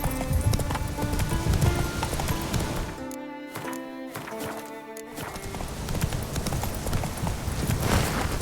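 Geralt's horse Roach galloping in Witcher 3, steady rhythmic hoofbeats close and loud, briefly breaking off with a whinny before the gallop resumes.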